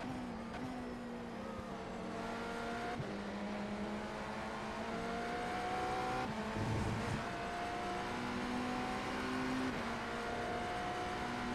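Race car engine in the iRacing IMSA sim holding a steady drone with gear-whine harmonics, then dipping and shifting as the driver lifts off the throttle; a brief low rumble partway through, continuous and close throughout.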